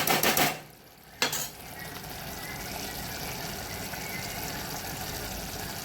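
Tomatoes simmering in a pan for Gujarati sev tameta shaak, a steady soft sizzle and bubbling that runs throughout, with a couple of brief louder stirring scrapes near the start.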